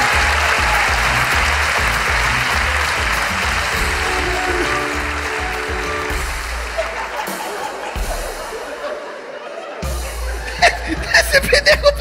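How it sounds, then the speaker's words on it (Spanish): Live comedy-show audience applause, loud and dense at first with cheering and laughter mixed in, then thinning out as scattered claps and chatter take over near the end. "Un fuerte aplauso para Masturboncio, por favor."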